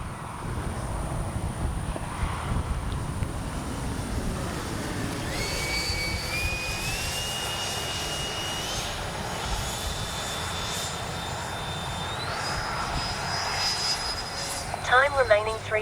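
A Freewing 90mm F-22 radio-controlled jet roars past with a steady turbine whine that rises in pitch through several stepped climbs, then swells louder and rougher near the end as it comes close.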